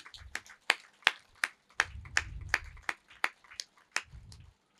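A small audience claps for their meditation teacher, a dozen or so sharp, distinct hand claps in an uneven rhythm, fairly close, with low murmuring bursts underneath.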